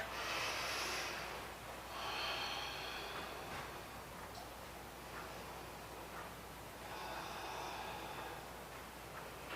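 During a barre stretch, several soft breaths rise and fall, each a quiet airy inhale or exhale spaced a couple of seconds apart in a hushed room.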